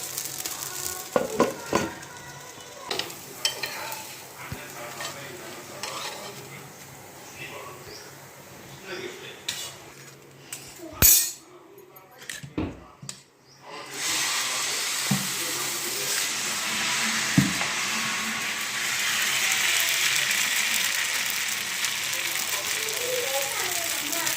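Mappillai samba rice dosa batter cooking on a pan, scattered clanks and handling noises first, then a steady loud hiss of batter on the hot surface for the second half.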